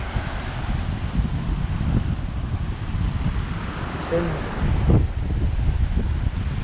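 Wind and sea waves on Porbandar beach make a steady, close roar of surf with wind buffeting the microphone throughout, broken only by a few faint scattered sounds.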